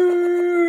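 A person imitates a Bigfoot howl with one short, sustained vocal wail at a steady pitch, close and clear, ending with a slight upward bend.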